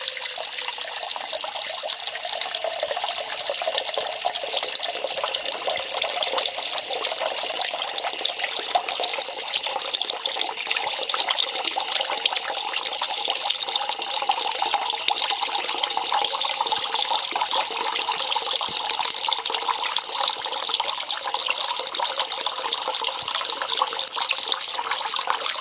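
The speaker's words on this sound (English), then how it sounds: "You get a nice tap-like stream of water come out." A steady stream of gathered water pours and splashes continuously from the valve of a homemade inline filter system with an Aquamira Frontier Pro, like a running tap, with a constant hiss-like flow throughout and no talking.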